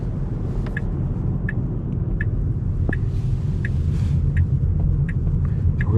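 A Tesla Model Y rear-wheel-drive accelerating hard on a road in Raisio, Finland, heard from inside the cabin as a steady, loud low rumble of road and tyre noise, with faint periodic ticks riding over it.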